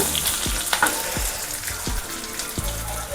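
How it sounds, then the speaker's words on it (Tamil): Onions and curry leaves frying in hot oil for brinjal biryani, a loud, close crackling sizzle punctuated by regular scraping strokes of a spoon stirring the pan, with no one speaking. "ஒரு கொத்து சேர்த்துட்டு நல்லா இது மாதிரி வதக்கி விடுங்க"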